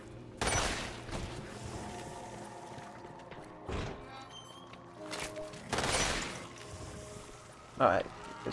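Bursts of weapon gunfire in the shooter game Umbrella Corps, several separate volleys of varying length with quieter gaps between, and a sharp distinct shot near the end.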